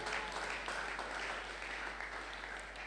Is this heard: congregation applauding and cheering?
yes